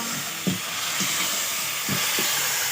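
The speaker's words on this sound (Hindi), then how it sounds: "ये देखिए पूरा अभी इसको मसाला के साथ पूरा भून लेगी।" Home-ground masala frying in a pan for chicken curry gives a steady, bright sizzling hiss, broken by a few soft thumps and stirs, with no talking.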